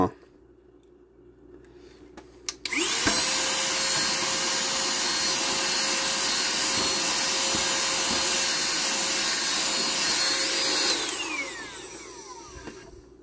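A small collection cleaner vacuums dust off toy bricks. Its motor whines up abruptly, runs at a steady loud hum for about eight seconds, then winds down, with quiet room sound before and after.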